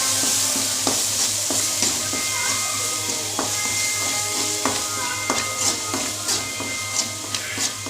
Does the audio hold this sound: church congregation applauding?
no